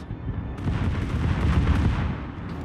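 Ship secondary guns firing in a naval video game, a dense, continuous rumble of heavy booming reports that swells after a quieter opening and stays loud throughout, with no talking.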